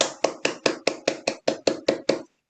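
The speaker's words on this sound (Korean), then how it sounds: "우리 박수 한번 크게 치고" An audience at a meeting claps together in a steady rhythm, about ten crisp, evenly spaced claps over two seconds, then stops abruptly into silence.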